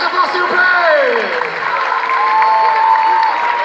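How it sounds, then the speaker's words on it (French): Audience at a Paris Comic Con cosplay championship applauding the winner, a dense wash of clapping with scattered cheers and whoops, while a presenter speaks over the crowd. "On l'applaudit très fort s'il vous plaît!"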